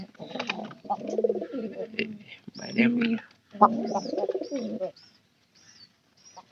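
Pigeons in a loft give soft, low cooing phrases, repeated near and clear, with someone speaking over and between the calls.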